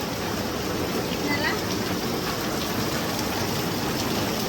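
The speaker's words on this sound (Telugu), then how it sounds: "జోరుగా వర్షం పడుతుంది." Heavy rain pours down outside a house, a dense, steady hiss of falling water that holds constant from start to finish, with no talking over it.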